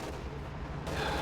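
A Soviet IS-2 heavy tank's main gun fires in the strategy game Company of Heroes 2, a loud, booming single shot that spreads into continuous rumbling battle noise with a brighter burst near the end.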